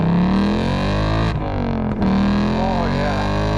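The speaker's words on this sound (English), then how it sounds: "we are rolling at 10 miles an hour and mash" A Ford Mustang Mach 1 at full throttle from a rolling 10 mph, its V8 engine roaring loudly and steadily as it climbs through the revs, with a brief dip at a gear change and a voice speaking over it.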